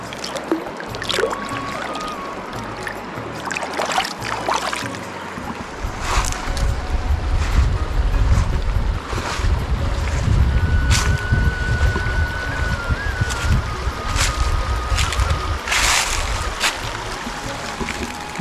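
The Sainj khad, a clear mountain stream, rushes with a steady, full-bodied roar and low rumble, close by and continuous, with no one speaking.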